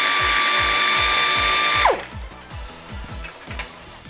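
A pneumatic air impact tool hammers off bolts during a Mazda MR-S radiator and cooling upgrade, a rapid rattling burst under a steady compressor-like hiss for about two seconds, then lighter intermittent ratcheting clicks continue close up.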